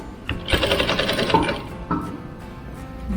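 An industrial sewing machine stitches in a rapid mechanical rattle for about a second and a half, then quiets to softer clicks and handling noises.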